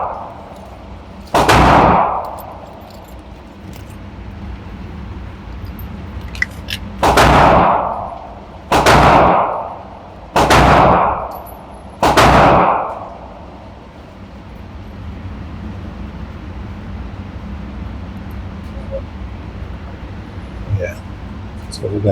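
Pistol shots from a magazine being run through a Great Lakes Synergy handgun that has feeding issues. Five loud, sharp reports are spaced irregularly, with quieter background noise between them.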